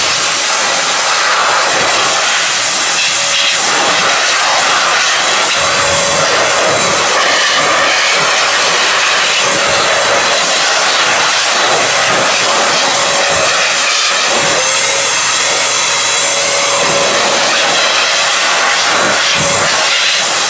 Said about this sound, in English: I blew out all the dust.